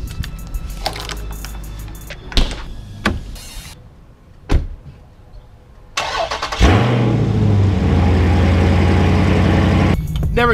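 A Mopar car's engine cranks and catches after a few clicks and rustles, then settles into a loud, steady idle that runs on close by.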